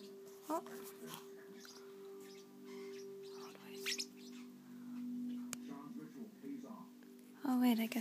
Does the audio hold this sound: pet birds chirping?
yes